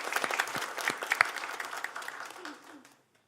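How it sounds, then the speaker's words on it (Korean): A church congregation claps to welcome a new member at a Sunday service, a short, modest round of individual claps that tapers off and stops after about three seconds. "우리 박수로 환영하겠습니다."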